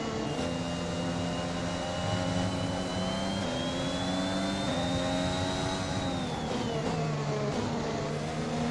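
A racing car engine in the F1 2021 video game on PS5 drones steadily with rising then falling pitch, close and loud throughout, with no talk.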